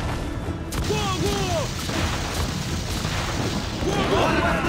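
Ship cannons fire in a naval battle in Assassin's Creed IV, a dense, loud, continuous roar of booms and rumbling blasts with crew voices shouting over the barrage.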